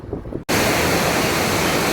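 A waterfall in Elazığ, Turkey gives a loud, steady broadband roar that cuts in abruptly after a short, quieter opening and then holds constant and close.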